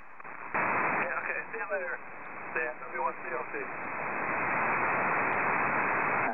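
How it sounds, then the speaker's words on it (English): A constant hiss of white noise from an FM signal on an amateur radio channel fills the clip, with a muffled voice speaking through it briefly before the hiss continues alone. "maybe it's some kind of an FM signal that's putting out that white noise"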